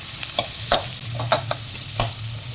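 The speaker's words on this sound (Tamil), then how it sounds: "பெரிய வெங்காயம், பச்சை மிளகா, கருவேப்பிலை. இதை வந்து ஒரு வணக்கிட்டு" Onion, green chili and curry leaves sauté in a pan with hissing oil, punctuated by several sharp spatula scrapes and taps at irregular intervals, close and clear with no talking.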